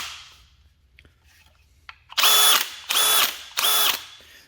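A hammer drill whines in three loud bursts of about a second each, separated by short pauses, after a few quiet clicks and handling noises.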